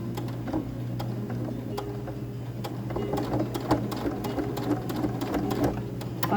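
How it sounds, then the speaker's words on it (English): A small domestic sewing machine runs steadily while quilting a large quilt, its motor humming continuously with rapid ticking needle strokes and occasional louder clicks, close and alone with no talk. "quilting on this little domestic machine"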